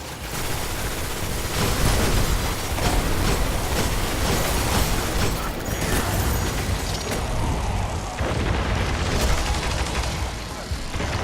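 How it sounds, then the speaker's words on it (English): Explosive rounds fire continuously in the Destiny video game, producing heavy booming blasts and a rumbling barrage that continues without a break, with a few sharper bursts standing out. "explosive rounds on this one"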